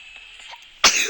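A single short, sharp sneeze bursts out after near silence, close and loud.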